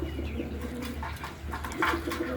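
Newly acquired pigeons cooing softly, a few low murmuring coos over a steady background hum, close and fairly faint.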